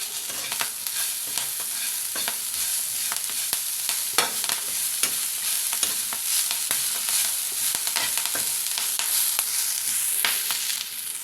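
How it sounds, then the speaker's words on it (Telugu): Chopped ponnaganti leaves frying in ghee, a steady close sizzle with frequent rhythmic scrapes and taps of a spoon stirring the pan. "దీన్ని ఒక ఐదు నిమిషాల పాటు ఫ్రై చేసుకుందాం"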